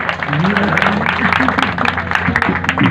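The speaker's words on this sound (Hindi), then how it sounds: "हिकिड़ी भरपूर ताली वॼाए मजू जे लाइ भरपूर ताली वॼाए" Enthusiastic audience applause for a performer at a live stage show, a dense continuous wash of clapping under loud overlapping voices and crowd noise.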